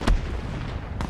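Gunfire and explosions in the Escape from Tarkov SPT mod, two sharp booming blasts about a second apart, loud, with no speech over them.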